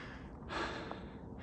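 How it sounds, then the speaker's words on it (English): Heavy, labored breathing of a hiker climbing the trail up Mt. Nittany near State College, a single strong exhale swelling up close and alone in a quiet outdoor setting. "we've gone up just by the sound of my breathing"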